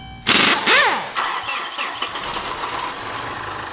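A Mitsubishi Fuso FG truck engine cranks with a rising whine after a no-start fault, catches and fires up, then settles into a rough idle, loud and close.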